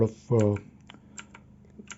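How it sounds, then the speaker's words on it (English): Keys pressed on a backlit gaming keyboard: one loud clack followed by several lighter, scattered key taps, close and otherwise quiet. "I guess I need to press function and this particular key."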